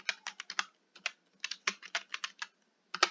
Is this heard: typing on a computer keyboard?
yes